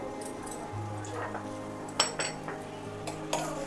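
Metal utensils clink against a bowl and pan as fried raisins are scooped out while making poha kheer, a few sharp close-up clinks over a low steady kitchen hum, with no voices.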